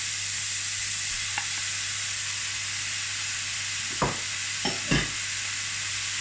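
Beef tossed with noodles and vegetables in a hot wok gives a steady, close sizzling hiss, with a few short clatters and bursts near the end and no voices.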